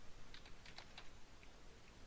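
Soft, quick keystrokes tap on a computer keyboard in a quiet room, a short irregular burst of clicks followed by a couple of lone taps, faint and close.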